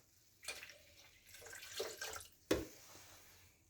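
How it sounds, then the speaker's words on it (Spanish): Water poured into a food processor holding garden huckleberries and their liquid, heard as quiet, uneven splashing and trickling in short bursts, with a sharper splash near the end. "le agregamos 250 centímetros cúbicos de agua"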